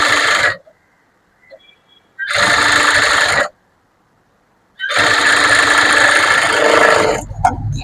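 A sewing machine stitches the back piece and lining of a blouse in three separate loud, close bursts of rapid needle chatter, separated by silent pauses.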